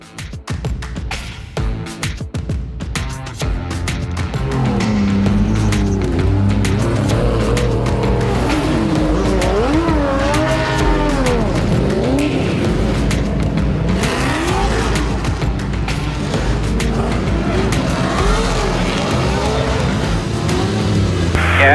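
Drift cars on a track at a Formula Drift round in New Jersey, including a 1,000-wheel-horsepower 2JZ-powered car, roaring loudly with sweeping engine revs rising and falling and sustained tire squeal, continuous and close for about twenty seconds.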